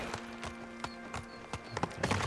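Horse hooves in the video game Ghost of Tsushima, a steady rhythmic clip-clop of several quiet, evenly spaced hoofbeats with a faint constant hum beneath.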